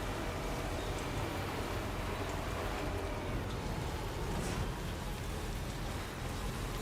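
Steady, dense rain pours in the video game Death Stranding 2, a continuous hiss of drops on surfaces with no breaks, loud and enveloping throughout.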